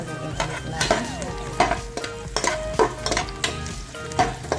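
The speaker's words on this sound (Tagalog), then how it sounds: "mainit na ang ating mantika, then ilagay na natin yung ating bawang or garlic. And then, haluin ulit natin siya." Chopped garlic frying in hot oil in a pan while being stirred with a utensil, steady sizzle with repeated sharp scraping strokes, close and alone without talk.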